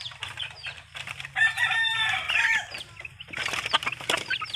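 Hens cluck nearby while a rooster lets out a long crow in the middle, followed by more scattered clucking and a flutter of wings.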